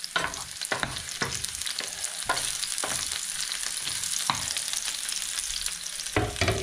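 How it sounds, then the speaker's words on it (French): Chopped shallot sautéing in a pan, a dense continuous sizzle broken by repeated scraping stirs, close and fairly loud with no voices. "Je fais revenir mon échalote."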